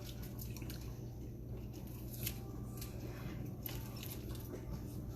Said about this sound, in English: kind of chop them and cut them with my scissors